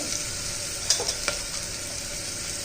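Onion and brinjal sizzle steadily in a pan for sambar, a constant close frying hiss broken by a few sharp spatula stirs and taps near the middle.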